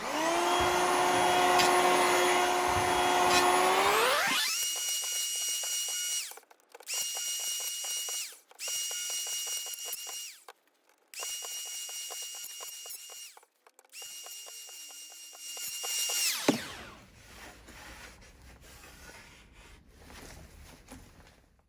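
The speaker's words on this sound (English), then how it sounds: "clamp this to the side of the bench and then plane it down a little bit" An Aldi Workzone Ferrex 18V cordless planer runs with a loud, steady whine, then makes several passes across a piece of wood clamped to a bench, its pitch shifting as each pass cuts before the motor winds down.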